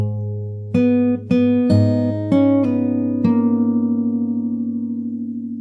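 Slow fingerstyle acoustic guitar riff from a song, five plucked bass-and-melody notes in a relaxed rhythm, each ringing on and sustaining into a long fading tail, close and clear with no voice.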